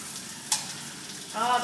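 Peas tumble into a pan of creamy monkfish risotto and get stirred through, giving a steady soft sizzle with one brief bright clatter as they drop and a wet stirring scrape near the end, close and fairly quiet, with no speech.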